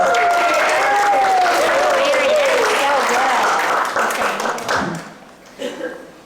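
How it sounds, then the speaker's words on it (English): An audience at a falls prevention seminar applauds a volunteer, the clapping full and close at first with a voice over it, then thinning out into scattered claps and fading. "Let's give her a round of applause."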